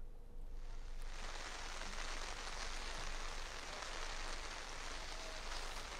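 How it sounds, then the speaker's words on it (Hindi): Continuous heavy rain falls in Ranchi, Jharkhand, a steady broadband hiss that holds evenly throughout with no voices over it. "लगातार झारखंड में बारिश का जो सितम है वो जारी है।"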